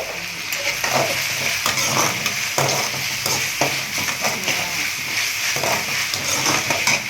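Ginger garlic paste sizzles in a hot pan for chicken curry, with a steady crackling fry broken by frequent stirring scrapes close to the microphone.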